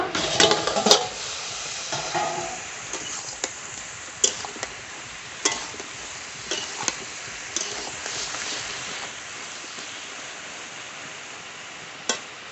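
Mustard greens fried in a pan and stirred with a utensil, a steady soft sizzle broken by repeated clinks and scrapes of the spoon against the pan, close and fairly clear.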